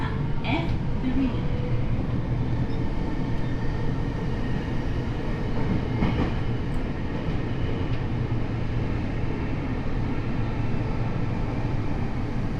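A Tokyo Metro 7000 series subway train with Hitachi IGBT drive runs along the track with a steady rolling rumble and motor hum from inside the car, while an onboard announcement plays over it.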